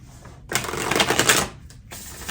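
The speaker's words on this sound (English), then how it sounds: "get a mudra card out for you at this point and give it one shuffle" A single brisk riffle of a deck of oracle cards, a fast flutter of papery clicks lasting about a second, followed by a short tap as the deck settles.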